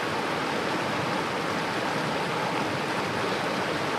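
Water squeezed through a Sawyer water filter into a bottle outdoors, a steady broadband rushing hiss that stays constant and close without pause, no speech.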